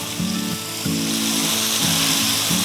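Garlic fries in about half a cup of hot oil, a dense, continuous sizzle heard up close, with a low humming tone that comes and goes in short bursts beneath it.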